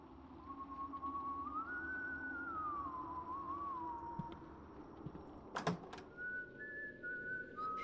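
A whistling enemy in the horror video game White Day, heard as a single wavering whistled tune that rises and falls near the listener, followed by a door-like clatter and later brief higher whistled notes.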